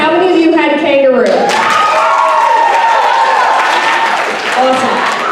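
Loud audience applause and cheering at a school talent show, with shouts and whoops over dense, steady clapping that carries through the whole stretch; voices call out at the start.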